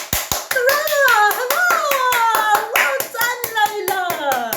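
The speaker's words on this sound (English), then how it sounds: "she could hear Zoe and Chloe clapping" Twin girls clapping for their sister, a fast, steady run of sharp hand claps throughout, with a high, bright voice rising and falling over the claps.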